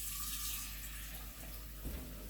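Water runs steadily from a kitchen sink tap, a continuous close hiss of flow with a brief change in the stream near the end, no voices.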